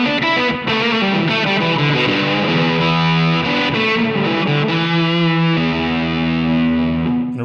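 Electric guitar with thick fuzz and a quick slapback echo, at full guitar volume through a Line 6 Helix Fender Princeton Reverb tone, plays a sustained melodic line, chords ringing and smearing together, with no voices.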